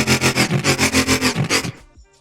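A heavy dubstep bass patch built in Ableton Live with saturation and a band-passed layer, pulsing in about ten loud, even wobbles before cutting off into a short faint tail.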